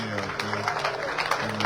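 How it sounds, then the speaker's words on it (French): Steady audience applause fills a hall at a tribute event for Haiti's ambassador to Canada in Toronto, a dense continuous patter of clapping hands mixed with crowd noise and a low hum. "Monsieur Anthony Dessous, s'il vous plaît, sur vos applaudissements"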